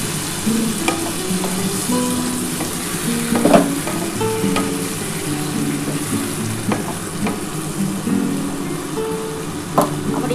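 Mustard water poured into a simmering vegetable curry cooked with garlic, giving a steady bubbling sizzle with stirring scrapes and occasional clinks, close and continuous with no talking.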